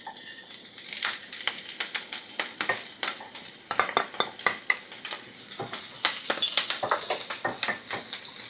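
Green onion stir-frying in a hot pan for Chinese tomato eggs, a steady loud sizzle broken by repeated sharp scraping and stirring strokes of a utensil against the pan.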